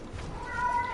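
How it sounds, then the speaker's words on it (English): A house cat meows and yowls in the background, a brief drawn-out cry that is faint and distant under quiet room noise. "Oh, that's the cat screaming in the background."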